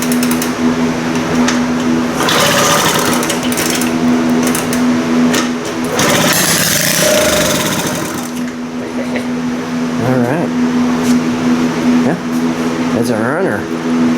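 A 1978 Indian moped engine on its first start, a rapid buzzing putter that fires up, surges and keeps running close by, with brief revs and pauses and a voice speaking over parts of it.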